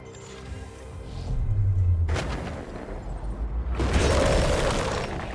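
A stone pillar topples and crashes down in Warhammer 40k: Chaos Gate - Daemonhunters, a heavy booming impact with rumbling debris that swells, breaks off, then surges again into a loud, sustained crash.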